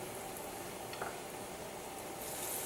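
A pinch of breadcrumbs sizzles quietly in hot oil in a frying pan, a soft, continuous crackle heard at low level.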